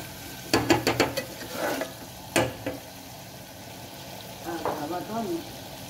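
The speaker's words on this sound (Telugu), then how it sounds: "ఇలా గరిటతో బాగా కలపాలండి." A ladle stirs mutton in a pot for an Andhra mango mutton curry, giving a few quick scraping clatters, then a single sharp scrape and a softer stirring burst later, each separated by quiet sizzling gaps.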